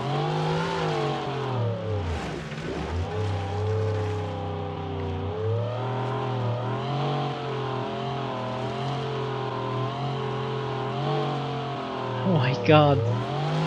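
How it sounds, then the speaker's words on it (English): In a video game, a turbocharged 1985 rally car engine drones and revs in rising and falling sweeps for the whole stretch, with a voice exclaiming over it and a short squeal near the end. "a tiny bit of throttle and the turbos will kick in and this thing will just jump"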